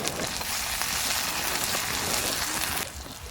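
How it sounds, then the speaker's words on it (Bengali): Chopped onion with slit green chilies fries in a pan with a loud, continuous close sizzle that drops off slightly near the end, and no voices. "পেঁয়াজটা খুব সুন্দর করে ভেজে নেব"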